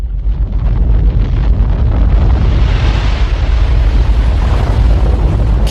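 A volcanic eruption explosion roars as a loud, continuous broadband rumble with wind buffeting the microphone, sustained throughout without voices.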